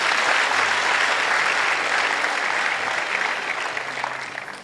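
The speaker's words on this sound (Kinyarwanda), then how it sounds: "Mwongere dukomere Imana amashyi." Sustained applause from a church congregation, a dense wash of many hands clapping together at full strength, fading slightly toward the end without any voices rising over it.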